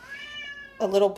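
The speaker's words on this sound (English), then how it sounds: "Sorry, that's my cat." A cat lets out a loud, drawn-out meow nearby, following a moment of faint background tone.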